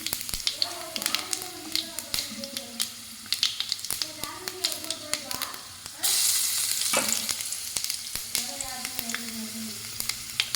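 Spices hit hot oil in a pan for a cauliflower dish, setting off a continuous close sizzle with stirring scrapes that grows stronger partway through, while a person talks over it.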